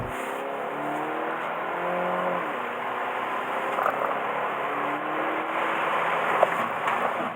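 A Hyundai Ioniq Hybrid car accelerates hard in a steady, continuous run, its engine and motor rising in pitch through several gear steps and holding loud and close throughout, with no voices.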